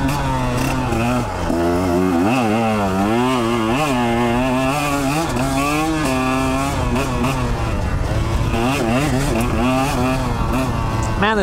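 A KTM 125 XC two-stroke dirt bike being ridden off-road, its engine loud and close, revving up and down through repeated gear changes with a rising and falling whine throughout.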